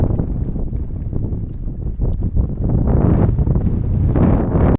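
Strong wind blows at an alpine lake, buffeting the microphone in heavy, rumbling gusts that swell and roar loudly throughout, with no voices.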